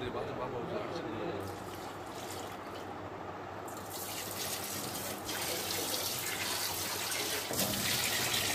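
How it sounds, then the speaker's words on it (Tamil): Water runs and splashes while a wet grinder is scrubbed and rinsed clean at a sink, a steady hiss and sloshing under a voice. "இந்த நல்லா தேய்ச்சி கழுவிக்கோங்க கிரைண்டரை"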